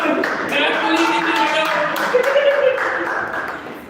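Scattered clapping from a Toastmasters club audience, fairly soft and irregular, mixed with crowd chatter and background voices throughout.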